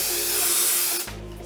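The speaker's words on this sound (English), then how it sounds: "Again, give it a good spray" Spray adhesive hisses onto quilt backing in one loud, close burst lasting about a second before it cuts off abruptly.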